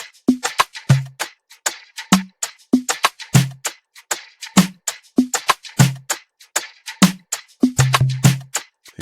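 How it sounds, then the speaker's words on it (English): Conga drums programmed in FL Studio: a steady looping pattern of crisp slaps and deeper open tones, with rapid clustered hits, dry and close without any voices. "So the conga."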